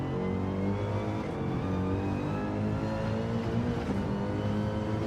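Race car engine in Gran Turismo 7 drives continuously, a steady harmonic engine drone holding at high revs with slight fluctuations, loud and close with no talk.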